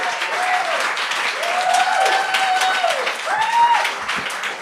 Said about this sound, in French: On fait un tonnerre d'applaudissements pour Benoît Gagnon!